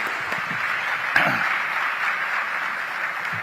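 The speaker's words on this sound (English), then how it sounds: "Could we have a huge round of applause for them?" An audience at a scholarship ceremony claps steadily throughout, a full, even round of applause with no voices over it.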